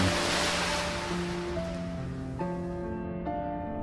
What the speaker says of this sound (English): the tank engine rolled towards the edge of the quay and plunged into the deep, cold sea.